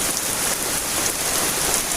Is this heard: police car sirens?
no